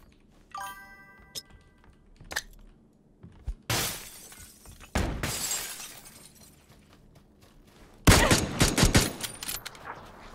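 Pistol fire in the PUBG battle royale game: a few sharp, scattered cracks, then a loud burst of several rapid shots close by near the end, with quiet stretches between.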